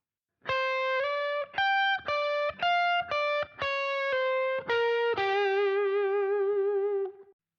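A distorted electric guitar plays a short blues run of separate picked notes, ending on a long sustained note with vibrato.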